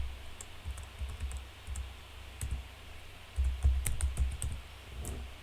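Typing a domain username on a computer keyboard, quiet clustered key clicks in short irregular bursts, close and soft with no talking.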